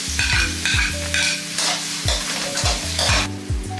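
Onion and garlic fry in a hot pan for a tuna tomato pasta, a steady close sizzle broken by repeated scraping strokes of a stirring utensil, about one every half second, with no talk.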